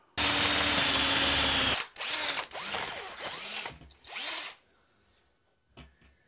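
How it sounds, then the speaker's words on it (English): A power drill bores a hole up through a roof: a loud steady whine for about two seconds, then several shorter bursts as the bit bites and slows, ending in quiet handling clicks. "go up in the attic, and drill a hole through the roof."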